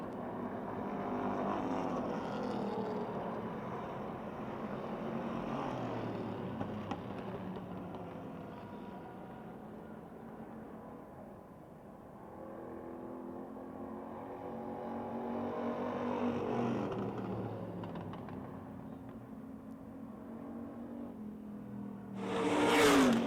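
A race car engine roars past at a steady, loud pitch on an oval speedway, swells twice as it nears and fades, then a sharp burst at the end.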